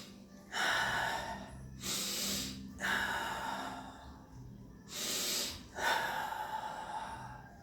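Slow deep breathing, close to the mic: long audible inhales and exhales alternating in a steady rhythm, about five breaths, with nothing else heard.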